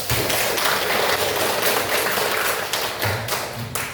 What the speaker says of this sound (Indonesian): Tepuk tangan untuk kalian semua dulu